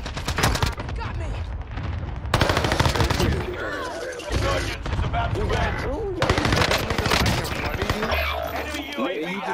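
Rapid automatic gunfire in the Warzone video game, on the Fortune's Keep map, with an EM2 rifle in use. Dense bursts of shots run almost without a break, loud and close, while players talk and shout excitedly over them.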